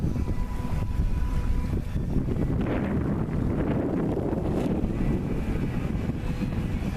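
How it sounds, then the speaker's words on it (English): Wind rushes steadily across a sailboat under sail at sea at sunset in about 8 knots of breeze, a continuous loud buffeting with rumbling mixed in. "Wind's still holding up."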